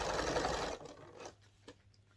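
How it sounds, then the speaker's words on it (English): Sewing machine stitching a zip into a round boxed cushion on its longest stitch: a close, busy mechanical whir that stops after less than a second, then a couple of faint clicks. "go to the biggest stitch and you sew it in wherever you want to stitch"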